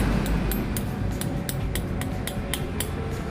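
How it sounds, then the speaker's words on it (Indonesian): Repeated sharp metallic taps of a hammer striking the end of a motorcycle shock absorber shaft during a leaking-shock service, about a dozen quick close-up hits over a low background rumble. "Nah jadi ujungnya saya pukul sama palu ya, tuh dia keluar."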